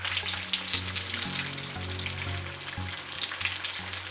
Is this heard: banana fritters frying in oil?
yes